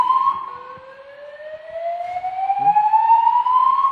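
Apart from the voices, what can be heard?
hotel early alert system alarm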